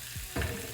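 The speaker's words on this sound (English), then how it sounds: "you're just going to keep frying everything and just keep stirring it" Stew ingredients sizzle in hot oil as they are stirred, a short, steady frying hiss with a soft scrape of the stirring, close and moderately quiet.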